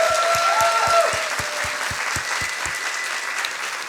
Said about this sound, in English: So a big applause for everybody of us.